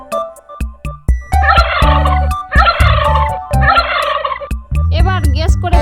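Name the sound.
turkey gobbling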